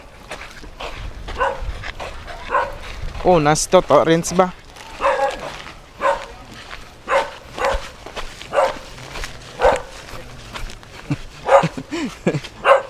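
A dog barks repeatedly in short, regular yips, fairly close, while people talk and laugh over it.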